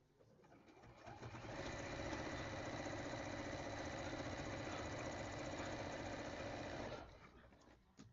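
A sewing machine stitches the binding of a Bargello quilt, running in one steady, even burst of about six seconds with a close, rhythmic mechanical whir, with quieter handling before and after.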